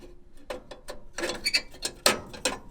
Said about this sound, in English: So you slide that in, like that, and then you put the burner in.